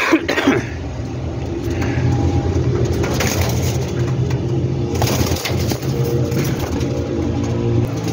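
Pigeons of a traded pair coo and rustle close by, a soft intermittent cooing over a constant background hum, with a sharp crunch or flutter near the start and no talk.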